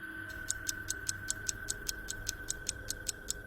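A clock ticks steadily in a horror cartoon, sharp evenly spaced clicks about twice a second over a faint constant tone and low background hum, with no voices.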